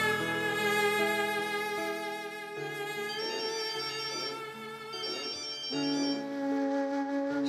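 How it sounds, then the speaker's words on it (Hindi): A phone rings with a bright, repeating melodic ringtone, clear and steady at moderate volume with no voices. "फोन उठा लो"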